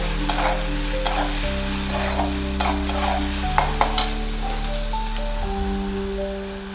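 Onion, capsicum and tomato sautéing in a pan for sorghum flour parattha, a continuous nearby sizzle broken by sharp spatula taps and scrapes against the pan, with a low steady hum beneath.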